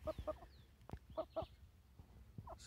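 A pair of Aseel Raja Murgh chickens clucking close by, short paired clucks in quick bursts with soft thumps between, fairly quiet.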